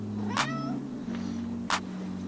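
A house cat meows indoors in a kitchen while fish fillets cook, giving two short, fairly close cries about a second apart over a steady low hum.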